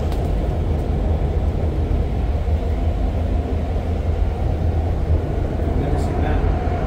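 REM light metro train riding on tracks between Central Station and Île-des-Sœurs in Montreal, heard from on board as a loud, continuous rolling rumble and rushing noise.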